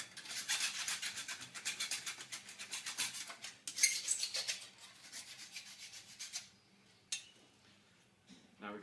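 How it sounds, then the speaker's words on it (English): A file rasps along the freshly cut edges of a metal cable tray in steady, repeated close strokes, and it stops partway through before a couple of faint scrapes. "Get in the habit of filing your cuts straight after doing them"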